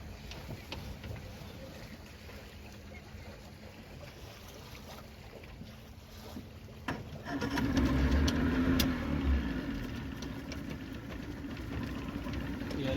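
A 2000 Johnson 50 HP outboard engine on a boat out on the water idles at a low, uneven rumble, then rises to a louder, steadier drone partway through amid wind and water noise.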